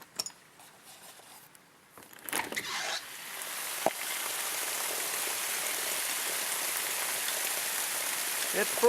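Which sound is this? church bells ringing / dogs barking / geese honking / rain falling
rain falling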